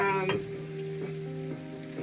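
Potatoes and onions frying in a pan, a soft close sizzle with a few faint stirring clicks, quiet and steady over a short stretch, no talking.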